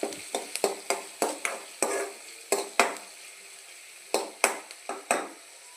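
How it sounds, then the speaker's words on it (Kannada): Chapati noodles being fried in a pan over a medium flame, with a steady faint sizzle under a series of sharp, ringing metal spatula strikes against the pan, coming in irregular quick bursts with a pause near the middle. "ಅದನ್ನು ಈಗ ಮೀಡಿಯಮ್ ಫ್ಲೇಮಲ್ಲಿ ಸ್ವಲ್ಪ ಕಲರ್ ಚೇಂಜ್ ಆಗೋದನ್ನು ಫ್ರೈ ಮಾಡ್ಕೋಬೇಕು"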